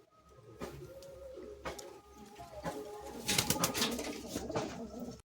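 Several pigeons coo in a small home loft, soft rounded calls repeating near and far, with wing flutters and scuffling rising toward the end.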